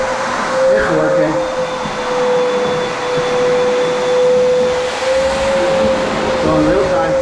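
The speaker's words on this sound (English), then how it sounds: "We got a shitty shop vac." A cheap shop vac runs in a steady, loud drone with a thin whine, close by and continuous, outdoors near a lake during floor preparation for acid stain.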